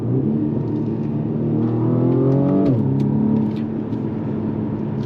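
A BMW M235i Gran Coupe with 306 hp and xDrive, driven in sport mode on a road test: loud engine revs climb steadily, then drop sharply at a gear change before settling into a steady, rumbling pull.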